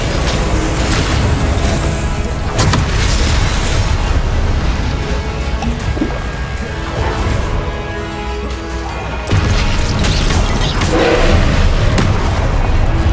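Confringo blasting spell explosions in Hogwarts Legacy, loud continuous booming and crashing blasts in dense game combat noise, several heavy hits across the stretch.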